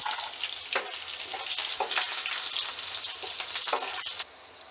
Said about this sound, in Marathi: त्यासाठी मोहरी आणि जिरे टाकून घेऊया तेलामध्ये